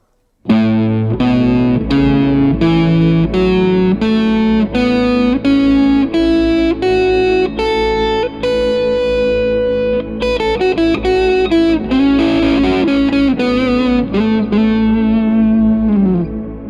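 Distorted electric guitar plays a steady run of single notes up and down a pentatonic scale, loud and close, with a bit of chorus shimmer.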